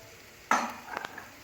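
Short scrape and clatter of a spoon stirring chicken kachori stuffing with coriander in a pan: one sharp stroke followed by a few lighter taps and a soft sizzle, close and fairly quiet.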